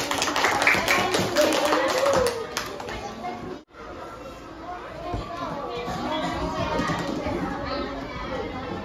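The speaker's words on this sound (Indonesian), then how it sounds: "Tepuk tangan untuk Arsi." Children's voices and chatter mix with a brief burst of clapping near the start, followed by a lively classroom murmur.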